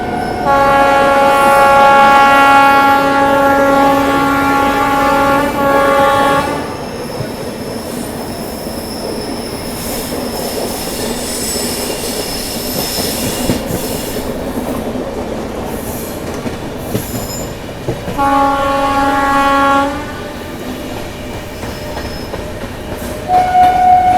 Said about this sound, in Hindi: और ये लो भाई, राजधानी को अपनी शताब्दी ने यहाँ पैरेलल ओवरटेक मार दिया, सियालदह राजधानी को।